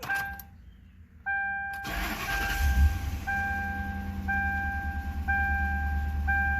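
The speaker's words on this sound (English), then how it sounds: "fire up the car" A Ford Crown Victoria Police Interceptor with an engine misfire cranks and starts up, then settles into a steady idle with a regular pulsing tone, heard up close with no talking.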